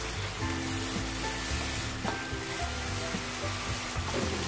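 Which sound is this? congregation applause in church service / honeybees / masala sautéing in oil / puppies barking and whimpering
masala sautéing in oil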